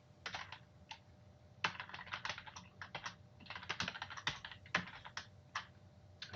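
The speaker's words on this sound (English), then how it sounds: "I just want to keep typing" Rapid, uneven keystrokes on a computer keyboard while writing code, clicking in quick bursts with short pauses between runs, close and fairly quiet, with no talk.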